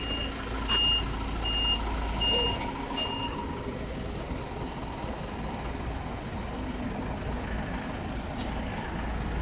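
A truck on the way to a carnival in Batu Aji, Kediri, sounds a run of evenly spaced reversing beeps early on. The beeps ride over a loud, steady rumble of heavy engine noise and traffic that continues to the end.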